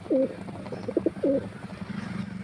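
A pigeon coos nearby, a few soft throaty calls repeated in a short rhythmic sequence over a low background hum.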